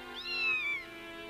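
A cat gives a single clear, rising then falling meow, close and fairly soft, over a faint steady background with no talking.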